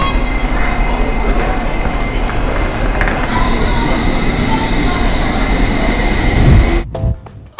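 A Paris metro train rumbles steadily with dense low-frequency roar and wheel noise, loud and close, then fades quickly near the end.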